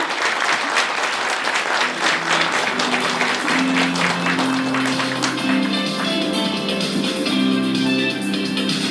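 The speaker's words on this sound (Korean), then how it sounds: "박수 부탁드립니다" An indoor audience at a book launch event gives warm, sustained applause to welcome a former deputy prime minister, with hums and murmurs joining in over the clapping.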